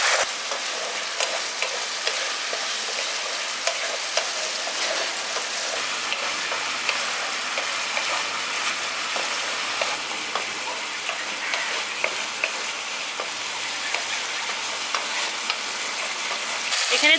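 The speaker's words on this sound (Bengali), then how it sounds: "এবার মশলাগুলো গুঁড়ো মশলাগুলো ভালো করে মিশিয়ে দিচ্ছি ভালো করে।" Ground cumin and coriander powder sizzle steadily in a hot pan for village-style prawn biryani, with a spatula scraping and stirring through a constant close frying hiss.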